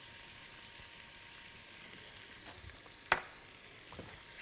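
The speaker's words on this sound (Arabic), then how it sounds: "الجمبري وصل للنار" Shrimp cooking in a hot pot on the stove: a soft, steady sizzle close by, with a single sharp clink of a utensil against the pot partway through. No speech.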